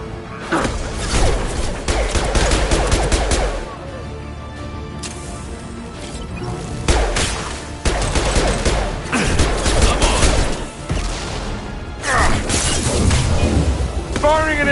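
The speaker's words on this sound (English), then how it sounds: "Firing an impact shot." Impact shot weapon fired in Mass Effect 2, with heavy booming blasts, crashing impacts and whooshes recurring across the stretch, loud and dense alongside game music and effects.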